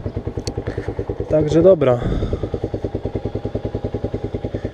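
A Romet K 125 motorcycle engine idles close by with a steady, even putter, while someone speaks briefly over it partway through.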